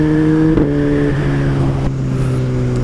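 Motorcycle exhaust heard while riding on a damp road, a steady, fairly loud engine drone with a shifting pitch as the bike moves along, with no talking.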